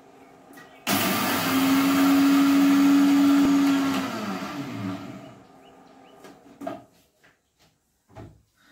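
A loud electric grinder whirs steadily for about three seconds as it crushes mustard seeds into a paste for a Bengali dish, then spins down, followed by a few small clunks in a quiet kitchen.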